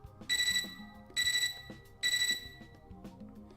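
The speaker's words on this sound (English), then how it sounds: "I'm startled out of my silent contemplation by beeping noise from my computer terminal" Three bursts of steady, high-pitched electronic beeping from a computer terminal in the video game Fate/Extra, each lasting about a third of a second, evenly spaced over low background noise.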